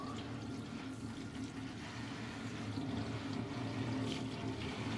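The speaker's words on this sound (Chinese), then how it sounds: "先将这些槐花全部冲洗干净，把上面的尘土冲洗干净" Running water pours over fresh locust flowers as they are rinsed of dust, a continuous splashing gush at steady volume with no voices.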